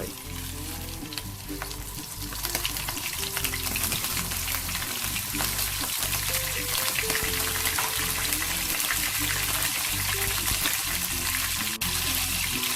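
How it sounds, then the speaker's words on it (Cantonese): Loud, continuous sizzling of large prawns frying in oil in a hot pan over high heat, a dense crackling hiss that swells slightly after the first couple of seconds. "用大火將我哋蝦擺落去"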